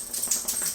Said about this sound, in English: That was my dog there shaking